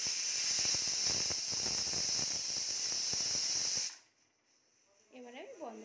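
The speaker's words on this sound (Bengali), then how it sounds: "আমি গ্যাসটা খুব জোরে দিয়ে সিটিটা দেব" Pressure cooker whistle forcing out steam over high gas while rajma (kidney beans) cooks: a loud, steady, shrill hiss for about four seconds that cuts off abruptly, followed by a quiet room and a voice speaking.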